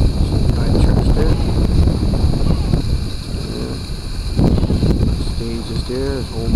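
Wind gusts across the microphone at a harbour in Burlington, Newfoundland, a steady rough roar that swells and eases, with a voice speaking partway through.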